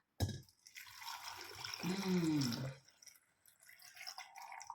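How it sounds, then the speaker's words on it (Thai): Pickling brine is poured into a glass jar packed with green apples, giving a broad liquid pouring and splashing wash that swells, then trails off into quieter drips and trickles. "เทน้ำดองใส่ลงไปเลยค่ะ"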